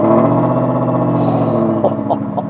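A right-hand-drive 2017 Mustang Shelby Super Snake idles loud and close after starting, a deep rumbling, lumpy burble with a few sharp blips near the end.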